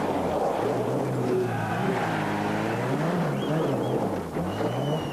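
A rally car at the 1988 Circuit of Ireland Rally charges in at high speed with failing brakes, its loud engine note rising and falling continuously as it draws close, with no one talking.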